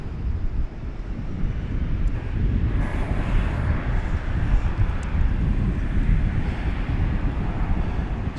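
American Airlines flight 1880, a jet departing from Dallas/Fort Worth airport, roars as a loud, steady, broadband rumble with wind buffeting the microphone, continuous throughout without talk.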